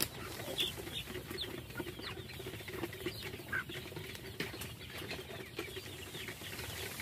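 A flock of chickens clucks softly over a busy background, with scattered wing flaps and rustling throughout, no talking.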